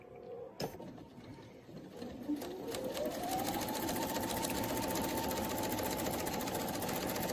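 A sewing machine starts after a sharp click, its motor whirring up in pitch before settling into a fast, steady stitching rattle as it sews a small half stitch; close and continuous, no talking.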